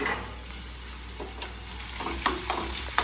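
Onion, green chilli and ginger garlic paste sauté in a pan, giving a steady soft sizzle with a few scraping stirs near the end.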